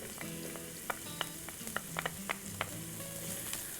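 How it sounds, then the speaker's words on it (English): Quarter of a diced onion and three cloves of minced garlic frying in olive oil give a steady close sizzle with scattered sharp pops, and no one speaks. "We're just going to cook these till they start to brown."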